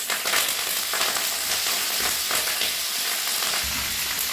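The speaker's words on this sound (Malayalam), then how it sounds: "ഇപ്പോൾ കടുക് പൊട്ടിയിട്ടുണ്ട്." Mustard seeds crackle and splutter in hot oil with dried red chillies and curry leaves, a steady loud sizzle with sharp pops running throughout, close and unbroken, no voices.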